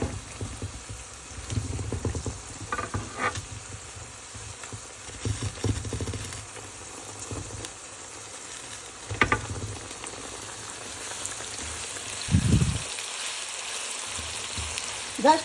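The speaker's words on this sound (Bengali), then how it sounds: "এদিকে মরিচ ভাজা হচ্ছে" Chilies frying in oil in a pan, a steady soft sizzle with crackling pops and occasional louder spits, close and continuous.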